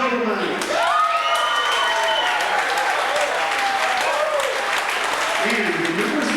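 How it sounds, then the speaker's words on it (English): Audience applause fills the hall at a 1998 Iowa Rock and Roll Hall of Fame induction, steady and loud clapping from a large crowd throughout, with a voice speaking over it near the start and end. "Let's give a nice round of applause to the Notorious Noblemen."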